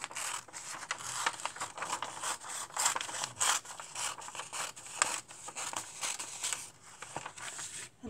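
Scissors snip and rustle through a paper teddy bear clothing pattern in quick, irregular cuts, with soft crinkling of the sheet between strokes, close and quiet with no voices.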